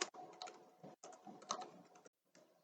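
A password tapped out on a computer keyboard in quick, soft keystrokes, close and fairly quiet, in two main runs with brief pauses between and no talking.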